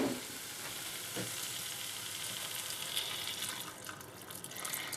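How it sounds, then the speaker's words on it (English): Boiling water, about 200 ml, poured into a pan of tomato and onion sauce for dudhi koftas, giving a quiet, steady sizzling hiss with faint watery splashing throughout. "I'm going to add the 200 ml of boiling water"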